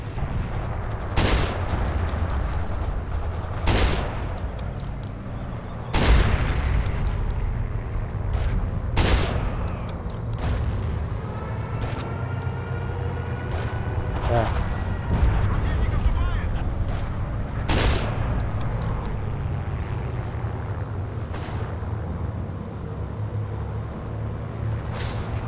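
Gunfire from the Forgotten Hope 2 multiplayer game: repeated sharp shots and bursts with heavy booming blasts, irregularly spaced over a low rumbling battle bed, with a voice talking over it at times.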